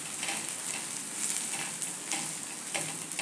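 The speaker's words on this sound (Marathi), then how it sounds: "आता वरून थोडं तेल घालूया आणि याला थोडं परतून घेऊया" Thalipeeth fries in oil in a pan, giving a steady close sizzle with faint crackling pops throughout, heard alone without any talk.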